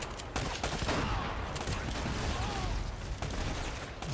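Dense, loud game gunfire from enemy shotguns during a wave attack in Uncharted: Drake's Fortune, a continuous fusillade of overlapping blasts and impacts that runs almost the whole time.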